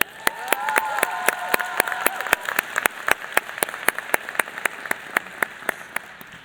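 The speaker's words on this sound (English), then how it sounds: "Please join me in a round of applause for the work done by the" Applause from an audience at a state officer election session for the nominating committee, with sharp, regular claps standing out over a softer crowd wash and brief murmuring near the start.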